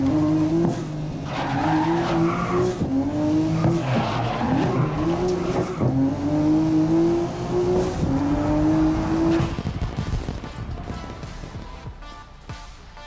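Race cars in the racing game GRID (2019) rev hard through repeated rising gear pulls, with tires squealing and skidding through corners, then the engine noise fades into quieter rumbling.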